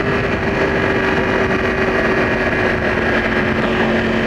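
A Yamaha R1 motorcycle engine runs steadily at a constant, loud, close drone with a strong hum and no pauses.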